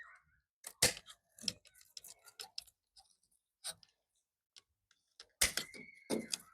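Pruning shears snip through a grape vine stem just above a joint in a garden border: a few sharp, close clicks and snaps spaced across quiet moments, with a louder cluster near the end.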